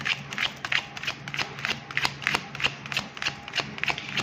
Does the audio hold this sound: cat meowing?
no